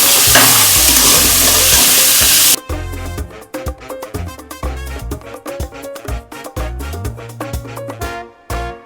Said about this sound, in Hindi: ये 1/4 किलो ऑफ मटन है, हम इसको फ्राई कर रहे हैं।